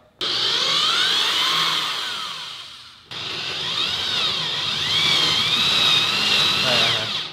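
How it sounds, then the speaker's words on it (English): A power drill whines loudly as it bores into a hockey puck, running steadily with one brief pause partway through before revving back up. "Now we're going to drill a hole in the hockey puck."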